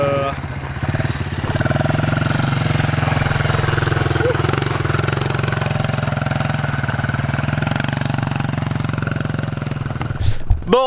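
A motocross bike runs on a dirt practice track, its engine holding a steady, loud drone for about ten seconds before cutting off abruptly near the end.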